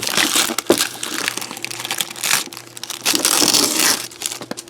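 Cellophane on an embroidery patch being trimmed, heard as continuous close crinkling and crackling of the plastic film with small snips, fairly loud and uneven.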